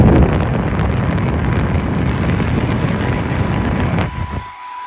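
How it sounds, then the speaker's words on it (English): A steady, loud rushing blow of air fills the space without pause, then cuts off abruptly near the end, leaving quiet. "a good old hair dryer, and we're gonna turn that on hot"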